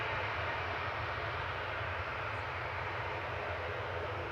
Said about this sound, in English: Very noisy prop.